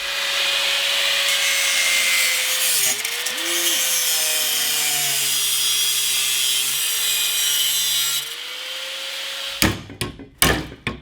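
Power tool cutting through metal while trimming the flange of a muffler on a 10 hp mini quad: a steady, loud grinding whine holds for about eight seconds, dips briefly midway, then stops and gives way to a few sharp knocks.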